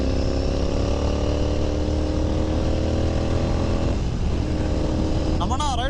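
A Royal Enfield Himalayan 450 motorcycle's engine drones steadily and close for several seconds, with the pitch shifting slightly as it rides past, while other engine noise continues around it.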